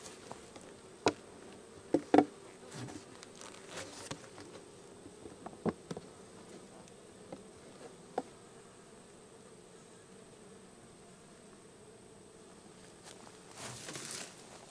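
Honey bees hum around an open ten-frame hive on a homestead, a soft steady buzz with occasional louder passes close by and scattered knocks and clicks as the hive is handled.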